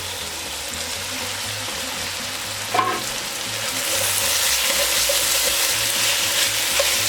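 Sliced sweet Italian sausage sizzles and fries steadily in a pot, a continuous crackling hiss that swells a little louder partway through, with a brief clatter near the start and no voices.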